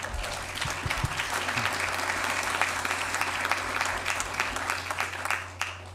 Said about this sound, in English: Round of applause for Michelle.